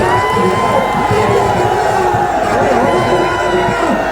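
A packed political rally crowd for Akhilesh Yadav of the Samajwadi Party roars and cheers continuously, a loud, sustained wash of shouting voices with clapping mixed in and no pause.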